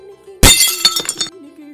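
Plates and glasses smash in a kitchen, one sudden loud crash followed by a rapid scatter of ringing, tinkling shards, while a voice talks over the breakage.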